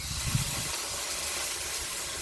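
Water poured into a hot pan of chili oil hisses into a steady, close steam sizzle that holds evenly throughout, with a brief clatter at the start.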